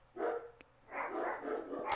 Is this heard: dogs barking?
yes